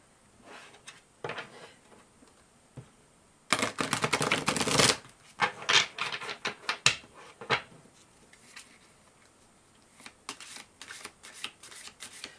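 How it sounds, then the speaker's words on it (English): Tarot cards being shuffled in quick papery bursts, with one long, loud riffle in the middle and lighter scattered flicks around it, close up with no talking. "I don't remember how many times I've shuffled"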